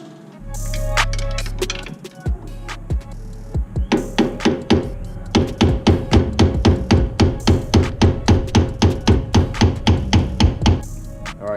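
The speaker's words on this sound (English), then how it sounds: "hammer and screwdriver to knock it loose a little bit here." Steady rhythmic hammer blows strike a screwdriver to knock loose a part on a vehicle's rear springs, about two dozen sharp metallic taps at a quick, even pace, loud and close, after a few scattered knocks and a brief rumble.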